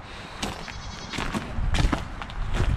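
Baby goats bleating in a barn, several short overlapping cries at close range rising over a busy rustling background.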